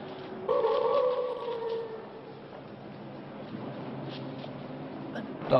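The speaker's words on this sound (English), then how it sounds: "Dogs. Stray dogs." Stray dogs howl in a horror film soundtrack, drawn-out wailing tones rising and fading at a moderate distance, followed by a low, sustained eerie backdrop.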